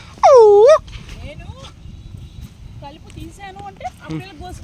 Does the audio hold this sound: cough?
no